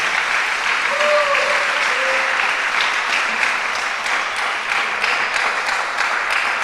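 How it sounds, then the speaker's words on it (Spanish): Church congregation applauding the Lord, sustained loud clapping from a crowd filling the room, with a few voices calling out underneath. "Denle un aplauso al Señor, hermano."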